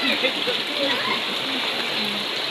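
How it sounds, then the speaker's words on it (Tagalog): Rain falls steadily after a long dry spell of about two years, a dense, loud, constant hiss of drops on surfaces, with faint voices and other sounds underneath. "katagal na hindi umulan, ngayon ay umulan na talaga"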